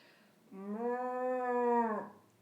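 A person imitates a small dog with a single drawn-out, high, whiny yelp or howl about a second and a half long, voiced alone and fairly close.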